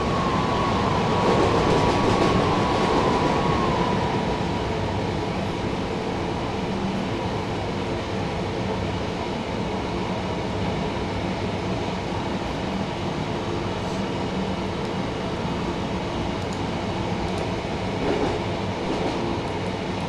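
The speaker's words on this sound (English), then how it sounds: "On a class 377." A Class 377 electric train runs along rails near London, its steady rumbling roll continuous and close throughout, with a brief high squeal near the start and no voices.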